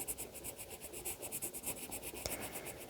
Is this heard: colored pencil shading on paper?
yes